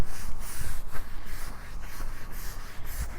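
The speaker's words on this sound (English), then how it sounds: "we are going to use the DIY Detail wheel and body brush sent by Ivan LaCroix, and we're just going to scrub." Stiff-bristled wheel and body brush scrubbing a muddy truck, a close, steady rhythm of rough rubbing strokes with no talking.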